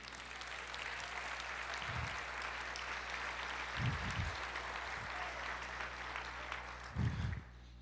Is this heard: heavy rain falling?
no